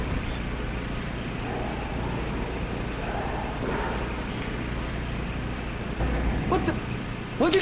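In Metro Last Light Redux a vehicle engine idles with a steady low rumble that rises near the end, with occasional voices talking over it.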